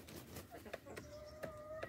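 Hens clucking inside a chicken coop, one hen getting ready to lay eggs; short clucks and a drawn-out squawk come through at moderate level over low background rustle.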